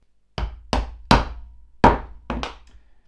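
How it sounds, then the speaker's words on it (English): A small double-edged chisel struck to cut a slot in a leather guitar or mandolin strap, giving five sharp, dull knocks at uneven intervals, close and clear with no talk. "I have this little chisel that has a double edge"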